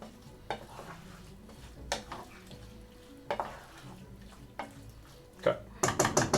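A spoon stirs breakfast burrito filling in a frying pan, giving a few scattered scrapes and knocks against the pan over a low sizzle, with a quick cluster of clatters near the end.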